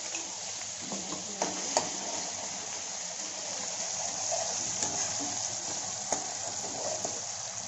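Masala paste sizzles and crackles steadily in hot oil in a pan, and a few sharp clicks of stirring break through the continuous hiss.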